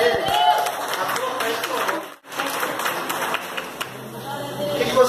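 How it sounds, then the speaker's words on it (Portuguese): A church congregation claps during a healing service, a lively wash of hands with chatter and voices over it, briefly cutting out before resuming. "Jesus é lindo, aplauda ele."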